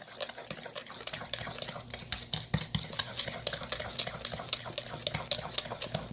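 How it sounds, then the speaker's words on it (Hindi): A spoon whisks cream steadily and rapidly in a bowl, producing a continuous clattery scraping rhythm with no voices. "चम्मच की आवाज़ बता रही है कि ये ना फ्लफी होना शुरू हो गई है।"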